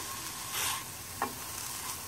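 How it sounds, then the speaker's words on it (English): Mushrooms fry in a pan for vegan pho with a continuous soft sizzle, and a short scrape of stirring cuts in partway through, close up and with no talking. "mushrooms need to be stirred a little bit."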